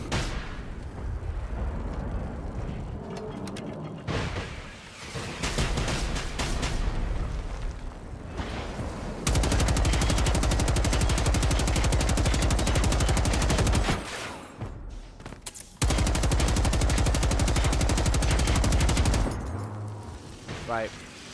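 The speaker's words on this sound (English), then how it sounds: "I should have just been using my fucking machine gun" A light machine gun in Generation Zero fires in long sustained bursts of rapid, loud shots, separated by brief pauses and scattered explosions amid heavy combat noise.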